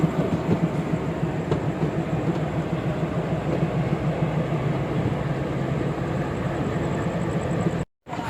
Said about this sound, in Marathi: प्लॅटफॉर्म 1 वरती आपली ट्रेनचं आगमन होत आहे